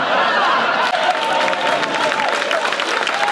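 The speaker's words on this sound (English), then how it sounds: "you know that's why you're cheering" A tribute-night audience cheers and applauds in a loud, continuous wash of clapping and voices, with whoops and chatter blended through the crowd noise.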